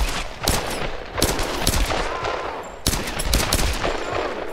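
Gunfire in the video game Tomb Raider: loud, close bursts of rapid shots with several sharp cracks standing out over a dense rattling barrage, continuing throughout.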